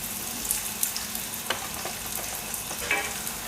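Egg masala ingredients fry in a little oil, giving a steady bright sizzle with occasional soft stirring clicks and scrapes, close and alone with no talking.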